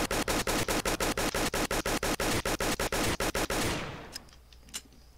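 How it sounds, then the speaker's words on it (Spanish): Rapid automatic gunfire in a Roblox video game, about twenty evenly spaced loud shots in a continuous burst that stops abruptly, followed by faint scattered clicks. "Me voy a disparar"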